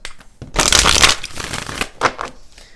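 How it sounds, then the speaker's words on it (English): A tarot deck is riffled and shuffled in loud, crisp bursts, with quieter flicks and taps before and after. "let's go ahead and do 4 major shuffles"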